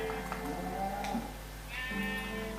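Sheep bleating in the Minecraft video game, a few short game bleats over a steady low background hum, with a closer, brighter bleat near the end.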